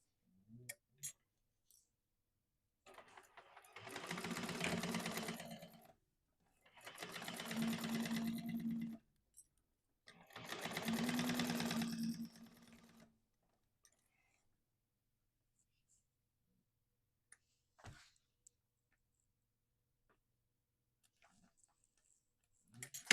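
A sewing machine stitching a sling bag in three steady bursts of a few seconds each, close and clear, with quiet handling clicks in the pauses.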